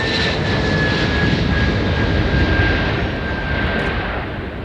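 An Antonov An-124-100 jet freighter carrying a locomotive takes off with a loud, sustained roar of its engines, a broad, steady rumble and whine that holds throughout without any voices.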